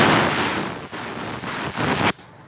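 A spray gun spraying clear coat onto car paint in a body shop, a loud, steady pneumatic hiss in two long bursts with a short break between, cutting off sharply near the end.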